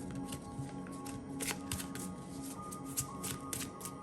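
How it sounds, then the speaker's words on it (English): Tarot cards from a Steampunk-themed deck are shuffled and pulled, making continuous crisp riffling and sliding card sounds, close and fairly loud, with sharper snaps at intervals. "I'm gonna pull a couple of cards from the Steampunk Keeper."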